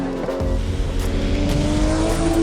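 A Porsche 935/78 race car with a 3.2-liter boxer engine revs hard and accelerates close by, its loud engine note climbing steadily in pitch after a brief gear shift.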